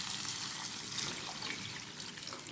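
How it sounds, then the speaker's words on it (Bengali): Water poured into a pan of tomato-based Bele fish curry, a steady broadband gush of liquid running continuously and fairly close, with no talk over it. "এবার আমি পরিমাণ মতন জল দিয়ে দেব।"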